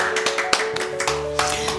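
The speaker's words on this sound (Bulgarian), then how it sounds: "Аплодисменти за младоженеца!" Scattered hand claps from a small group of guests at a civil wedding ceremony in Bankya, Bulgaria, honouring the groom; sparse, uneven clapping close by over a steady tonal background hum.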